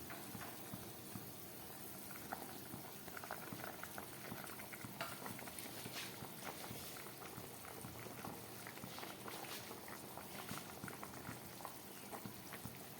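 Rohu fish curry with potatoes boiling in a pot, a dense steady bubbling and crackling simmer, faint and close, continuing evenly with no voices.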